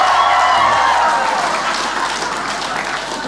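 Sustained applause from a large audience, dense clapping that stays loud throughout and fades a little near the end.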